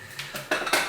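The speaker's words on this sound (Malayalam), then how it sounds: "ഇത് അതേപോലെ പാത്രങ്ങളാണ്." Camping cooking pots and utensils clink and clatter together in a few quick, close metallic knocks, handled briefly with no talking.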